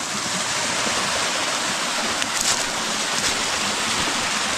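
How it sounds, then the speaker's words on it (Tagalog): Small countryside waterfall pouring steadily, a continuous broadband rush of falling water that stays close and loud throughout with no talk over it. "Ito po yung talon namin dito."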